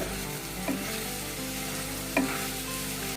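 Whole spices and turmeric mixed while frying in a pan for Punjabi dum aloo, a steady sizzle broken by two distinct scrapes of the spoon against the pan, heard up close with no talking.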